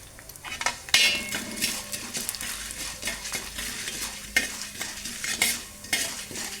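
Urad dal and chana dal fry in hot oil in a pan while being stirred, giving a steady soft sizzle broken by repeated scraping and clinking strikes of the spoon against the pan, close by and without talk.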